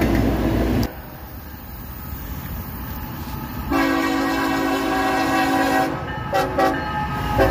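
Locomotive 4568, an Operation Lifesaver unit, rumbles past loud and close with heavy rail noise and sounds a long, steady horn blast that breaks off briefly near the end before sounding again.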